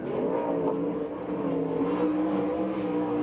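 A USAC/CRA sprint car running a qualifying lap at a Phoenix, Arizona track, its engine a steady, loud drone that holds pitch throughout with no pauses.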